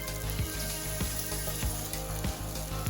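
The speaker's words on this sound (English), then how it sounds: "At a time, we will cook 4 to 5 mini pancakes." Radish mini pancakes frying in a pan, four or five at a time, give a steady close oil sizzle with small pops and crackles throughout.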